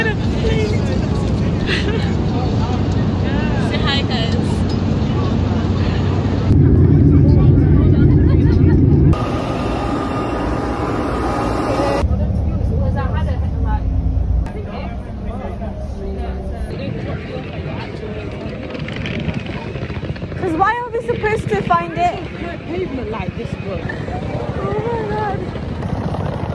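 A steady roar of airplane cabin noise fills a flight, with a broad engine and air rumble throughout and people talking over it.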